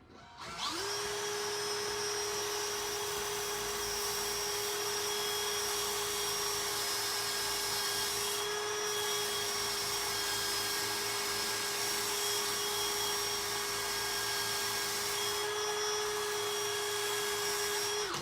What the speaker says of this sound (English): we're going to use this as a lathe and we're going to shave this lip down